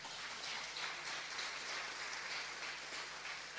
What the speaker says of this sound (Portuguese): Aplauda Ele por essa palavra.